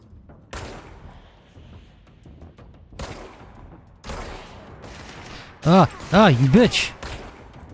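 Gunfire in the video game Control: several sharp, booming shots spaced a second or two apart, ringing out over low background ambience, then a character's voice cuts in near the end.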